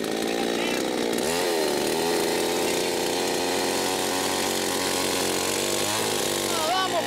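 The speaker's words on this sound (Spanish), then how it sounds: "Es la primera vez que agarro una motosierra." A chainsaw runs continuously and loudly while cutting wood in rural Chiloé, its whining engine pitch dipping and rising under load, with people talking over it.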